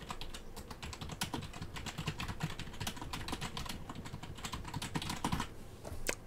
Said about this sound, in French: Écoutez bien les touches de mon clavier